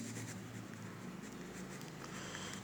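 Chalk or marker writing binary subtraction rules on a board, a faint continuous scratching and tapping in a quiet room.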